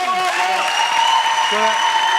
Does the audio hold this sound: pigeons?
no